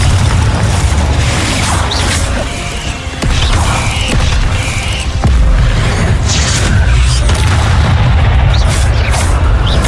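Confringo fire spell explosions in Hogwarts Legacy produce loud, dense booms and crackling bursts that keep coming one after another for the whole stretch.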